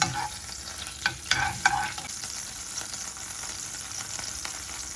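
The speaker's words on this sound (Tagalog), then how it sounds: "So, hayaan natin matunaw yung butter." Butter sizzles and crackles steadily in a hot pan, a soft continuous hiss with a few sharper pops and scraping clicks near the start.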